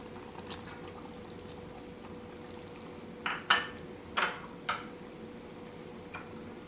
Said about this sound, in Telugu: ఇప్పుడు ఇందులో మామిడి ముక్కలు వేసుకుందాం